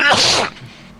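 A single sharp, close sneeze bursts out and quickly trails off into quiet.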